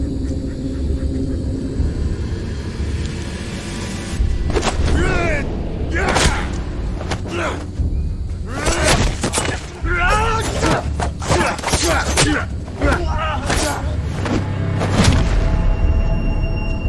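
Heavy booming film explosions and rumbling bursts erupt repeatedly, loud and close, layered with cinematic crashes over several seconds.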